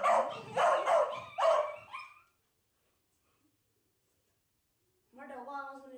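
A dog barks and yelps several times indoors at home, close and fairly loud, in a short cluster of barks, then silence before a voice speaks.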